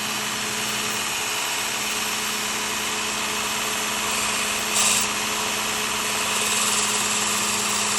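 Work Sharp belt sharpener on a 200-grit belt grinding an Outdoor Edge gutting blade, a steady loud motor whir with constant abrasive hiss, nearby and uninterrupted.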